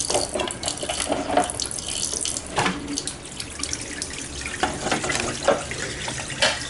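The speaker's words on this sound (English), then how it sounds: "this spout and connect it right here to drain the washer. And it's draining." Water drains from a WonderWash manual hand-crank washer through a connected spout, a steady splashing, gurgling flow with occasional louder surges, fairly close and with no talk.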